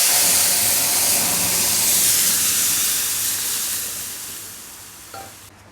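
Garlic hits hot oil in a heated pan and sizzles steadily at close range, a loud broadband hiss that gradually fades over several seconds, ending with a brief utensil knock.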